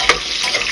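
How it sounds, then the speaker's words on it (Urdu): Onions hiss and crackle in hot oil in a pot just after chicken has been fried, a loud steady sizzle with one sharp pop near the start, no voices. "اب ہم ڈالیں گے تیل میں پیاز"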